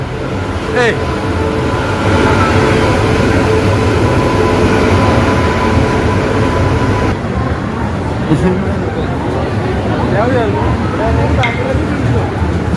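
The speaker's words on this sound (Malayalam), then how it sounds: "നമ്മുടെ ട്രെയിൻ വന്നു ഗൈസ്" Low rumble of an arriving train mixed with station crowd noise and nearby voices talking throughout.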